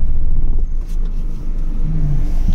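A Maruti Suzuki Zen hatchback pulls away on a village road in India, its engine rumbling loud and close with a brief revving rise as it drives off.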